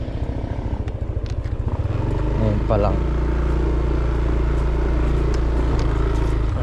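A motorcycle engine rumbles steadily, close and loud, as it is ridden down a very steep road in Cebu, with a brief rattle partway through and a few spoken words.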